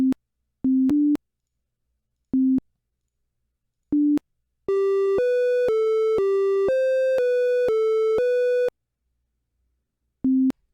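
A Simon-like memory game built on a Circuit Playground board plays clean electronic beeps: short single tones spaced apart, then a quick run of rising and falling pitched notes, then one more beep.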